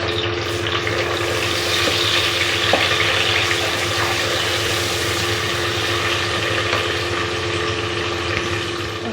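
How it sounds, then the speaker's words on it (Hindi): Tomatoes frying with masala paste in a pan for a lobia (white bean) masala, giving a steady, close sizzle throughout with no talk over it. "फिर इसमें टमाटर शामिल कर देने हैं"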